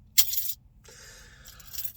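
A set of keys dropped to the floor lands with a bright metallic clink and brief jingle, followed by a soft rustling scrape as they settle, close by and alone without speech.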